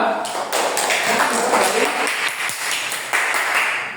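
A school class applauding a student group after a discussion presentation, dense clapping throughout with voices mixed in and an occasional tap or thump.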